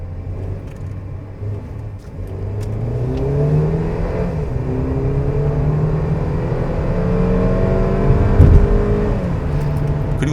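A Mercedes GLB engine revs up from 2000 to 3000 rpm with a low, rising mid-bass drone that climbs steadily and stays loud and close throughout, with no talking.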